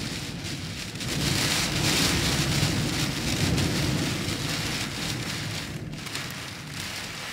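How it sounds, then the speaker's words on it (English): Dense, steady pelting of hail against surfaces on the Isle of Skye in winter, with a roaring gusty wind rising and falling, no voices. "It is super windy and there's hail."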